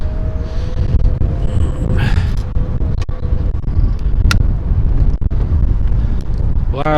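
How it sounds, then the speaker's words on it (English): Strong wind buffets the microphone in a continuous low roar beside the River Trent while riding along the bank, with brief faint background sounds passing. "Wow, it's a bit blowy up here."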